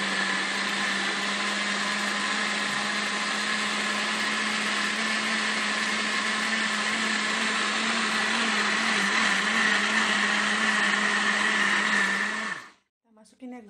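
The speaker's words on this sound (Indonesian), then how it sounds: "Mulai blender ya guys, dari bahan-bahan yang tadi yang semua kita masukin ke dalam ini, kita langsung kita blender" A kitchen blender whirs steadily while blending chocolate pudding ingredients, a loud continuous motor drone with a high whine that runs for about twelve seconds before cutting off abruptly.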